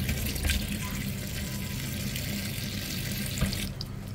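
Tap water runs in a steady, fairly loud stream while chili peppers are washed under it for a laing dish of taro leaves, with a couple of brief knocks and no talk.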